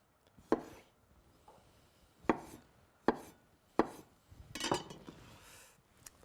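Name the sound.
chopping pickled beets with a knife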